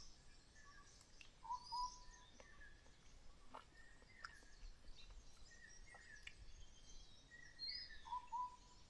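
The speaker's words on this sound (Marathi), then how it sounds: "एक पाखरू ओरडते." A bird calls in a dense Konkan forest before the monsoon, short high whistles repeating every few seconds, faint and distant over quiet ambient rustle.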